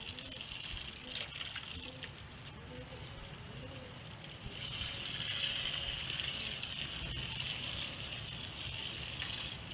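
Water sprays steadily onto an LG 1.5 ton window air conditioner during cleaning at home, a continuous hiss that grows louder and brighter about halfway through, with faint talk beneath.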